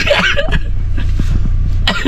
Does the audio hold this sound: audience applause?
no